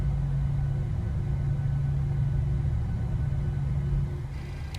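A Boeing 737 engine start in the PMDG flight simulator gives a loud, steady low rumble with a sustained bass hum, holding even before easing slightly at the end.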